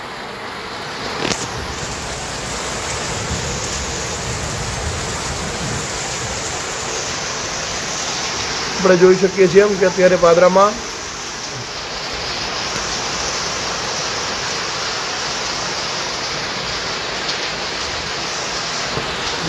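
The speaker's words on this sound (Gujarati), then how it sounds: "ભારે પવન સાથે ભારે વરસાદની પણ શરૂઆત થઈ ચૂકી છે" Heavy rain driven by strong wind pours in a dense, steady roar outdoors in Padra, with a voice briefly speaking partway through.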